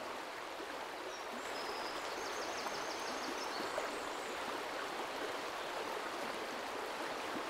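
A fast-flowing woodland river rushes in a constant, full roar of moving water, with a faint bird chirping briefly in the background.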